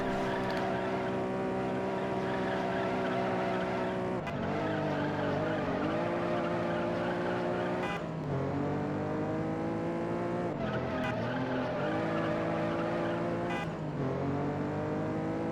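Honda NSX engine in the Juiced racing game, a steady loud revving drone that dips and climbs through gear changes, with several tire skids on corners and no talking.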